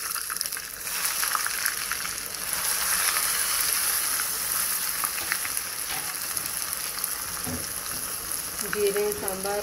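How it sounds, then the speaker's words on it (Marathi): Cumin, garlic, dried chillies and sambar masala spattering in hot oil as a tempering, a steady close sizzle and crackle throughout with a few faint voices in the background. "जस्ट मसाला घालून तडका मारपाचो ओके तो तडका हांव मारता"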